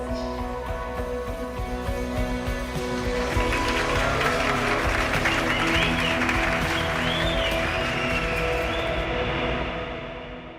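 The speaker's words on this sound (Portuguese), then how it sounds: "Esses aplausos e o clima festivo que você ouviu são da festa de casamento" Applause at a wedding party, a dense wash of clapping that swells after a few seconds and holds steady, with festive crowd noise and a tonal hum underneath before fading at the end.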